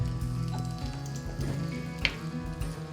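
Celery sautéing in butter in a covered pan over very low heat, a steady soft sizzle and crackle close by, with faint pops throughout.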